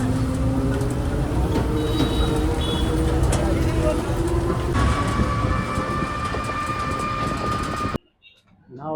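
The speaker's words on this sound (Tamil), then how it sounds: "இதுதான் வந்து ரயில்வே ஸ்டேஷன்." A train rumbles at a railway station in India, with steady rolling noise, metallic squealing tones and a voice talking over it, before the sound cuts off abruptly near the end.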